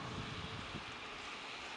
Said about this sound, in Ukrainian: Вітер гуде.